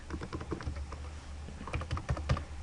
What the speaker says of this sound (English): if I can type today